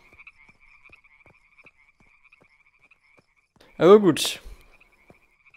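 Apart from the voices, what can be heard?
frogs croaking in video game Deiland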